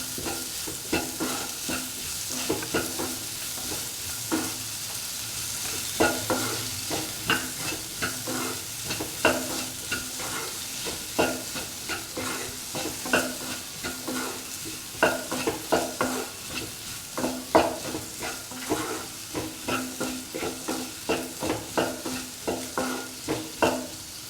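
Tender mango pickle mixture being sautéed in a pan: a steady sizzle under repeated, rhythmic scraping strokes of a spoon, loud and close, with no voices.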